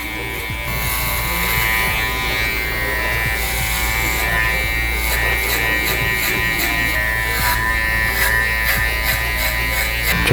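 Electric hair clippers hum steadily at close range while cutting a taper fade with a 4 guard, lever open, a continuous buzz with light shifts as the blades scoop upward through the hair.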